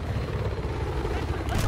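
A helicopter in a multiplayer shooter video game drones with a dense, low rotor rumble nearby, loud and continuous beneath overlapping talk from players.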